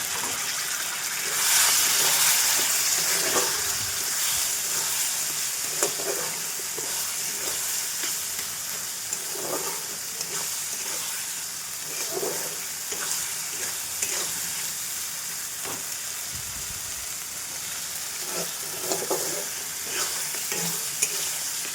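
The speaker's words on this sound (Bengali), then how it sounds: "অনেকক্ষণ কষা হয়েছে, প্রায় 15 মিনিটের বেশি।" Goat meat sautéed in a pan for a long stretch, a continuous close sizzle broken by regular scraping stirs of the spatula, with a brief hiss of steam near the start.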